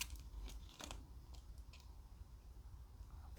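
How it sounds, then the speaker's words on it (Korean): Scissors cut notches into both sides of folded paper while making a toy double sword, several quiet snips spaced out over a low steady background. "양쪽을 똑같이 가위집을 내주세요"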